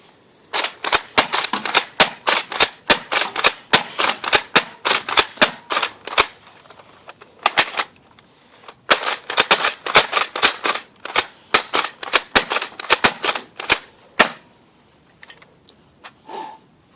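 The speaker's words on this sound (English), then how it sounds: "So that's all our Nerf guns. Look how many bullets." Nerf guns firing foam darts in rapid repeated bursts of sharp clicking shots, loud and close, with two long volleys separated by a short pause and a few sparse shots at the end.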